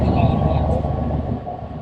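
Steady low rumble inside a train to Khun Tan, Lampang, Thailand, a dense rolling drone with faint murmur of voices underneath.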